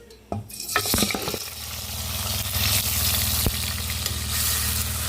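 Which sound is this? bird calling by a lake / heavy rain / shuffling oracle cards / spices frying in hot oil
spices frying in hot oil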